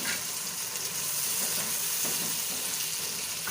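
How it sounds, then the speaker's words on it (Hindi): Tomatoes and onions fry in a pot with a steady, soft sizzling hiss and faint stirring, continuous and fairly quiet with no voices. "सो टमाटर हमने डाल दिया हुआ है अंदर, वो अच्छे से फ्राई हो रहा है"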